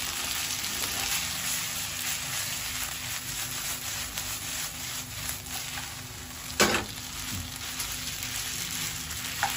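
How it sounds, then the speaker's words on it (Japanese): Japanese café-style Napolitan spaghetti stir-fried at length in a pan to brown it, giving a steady dense sizzle and crackle throughout with one sharper spatter of stirring near the end; no voices. "結構長い間炒めるんですよ"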